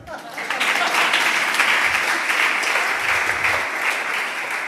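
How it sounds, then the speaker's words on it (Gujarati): An audience claps together at a religious discourse: a dense, steady wash of many hands that swells in after a moment and holds fairly loud until the end, with no voices standing out. "કોઈ વાત સારી લાગે તો તાળી પાડવી"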